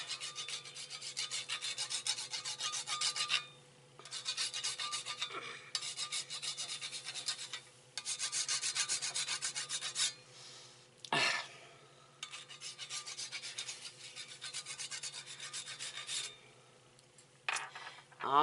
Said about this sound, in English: grind a little bit of nutmeg on the top of this. And I've got the whole nutmeg, and then my microplane